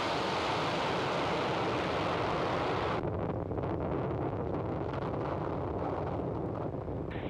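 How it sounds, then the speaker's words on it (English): A SpaceX Falcon 9 rocket roars at liftoff with a loud, steady broadband rumble. The sound becomes slightly duller partway through, and no voices are heard. "Ignition. And liftoff of Falcon 9."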